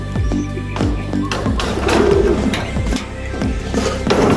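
Racing pigeons at their loft coo close and loud, deep throaty calls dropping in pitch and repeating several times over a rustling, busy background.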